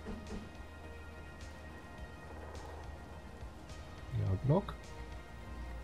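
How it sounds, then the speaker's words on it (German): Steady rain falls in the survival game Space Engineers on a multiplayer server, a constant hissing wash beneath someone talking, with a brief louder clatter near the end. "Wann regnet es hier mal nicht?"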